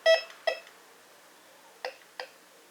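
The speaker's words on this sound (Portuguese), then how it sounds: "Então a gente vê que é um bip limpo" Two pairs of short, clean electronic beeps from a Bounty Hunter Tracker IV metal detector, each pair quick, separated by a pause, close and fairly loud against a quiet background.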